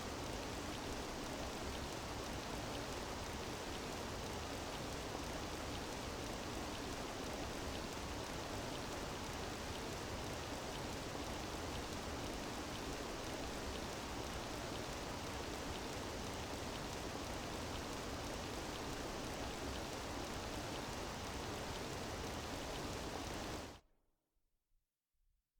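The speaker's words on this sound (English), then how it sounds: "Oh, it's raining." Steady rain falling in the video game Persona 5 Royal, an even, dense hiss that holds at a constant level for about twenty-four seconds, then cuts off abruptly into near silence.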